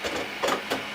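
A Bambu Lab A1 Mini 3D printer running near the end of its filament spool, giving a faint mechanical whir with a few soft knocking pulses in quick succession.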